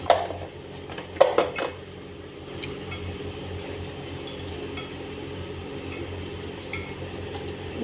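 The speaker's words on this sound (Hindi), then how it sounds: "आइस क्यूब्स डालें सबसे पहले" Ice cubes dropped into a glass for a mint margarita: a few sharp clinks near the start, then quieter occasional taps and knocks.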